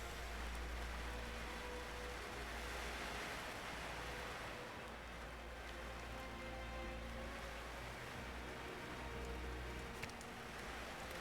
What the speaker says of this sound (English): Once again, excuse the rain noise.